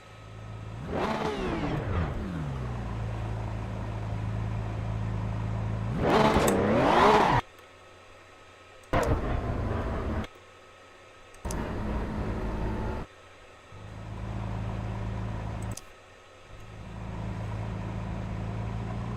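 Porsche Cup race car engine at Suzuka in the racing game AC EVO: a loud engine revving up and down through gear changes, with a sharp high-rev peak, then short bursts of throttle separated by drops to a low idle.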